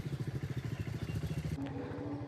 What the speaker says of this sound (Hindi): अभी फिलहाल बाइक को थोड़ा सा भाई गर्म कर रहे हैं, कोल्ड स्टार्ट करती हुई है बाइक